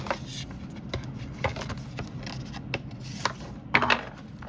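Continuous papery rustling and riffling as tarot cards are shuffled close by, with a few sharper flicks near the end.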